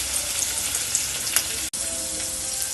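Crushed ginger and garlic fry in hot oil in a pan for a fish curry, giving a loud, steady, close sizzle with a brief break partway through.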